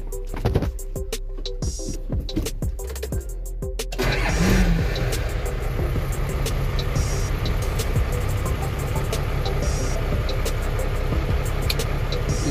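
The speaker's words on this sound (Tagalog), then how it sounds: "So start na po natin ang sasakyan." An Isuzu truck with a surplus air-conditioning compressor has its engine cranked with ticking clicks, then it catches and settles into a loud, steady close-up idle with no talk.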